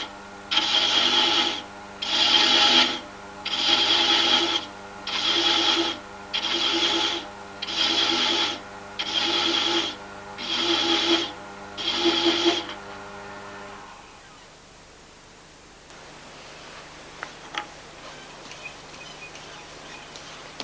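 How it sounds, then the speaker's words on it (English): A wood lathe turning at low speed cuts a thread on a spigot, giving eight evenly spaced rasping scrapes of about a second each. The cutting then stops, leaving a quieter stretch with a few faint clicks. "With the lathe running at a low speed, cut a thread on the spigot."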